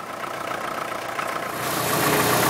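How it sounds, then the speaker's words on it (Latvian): An old tractor engine, a Latvian half-track, idles steadily after starting, a continuous rumbling drone that grows slightly louder and fuller toward the end, with no talk over it. "Palaida traktoru."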